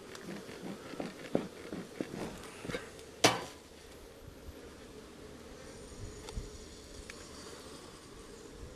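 Honey bees buzz around an opened, smoked beehive frame in a low steady hum, with a few sharp clinks and knocks from hive tools early on and one loud tap near the middle.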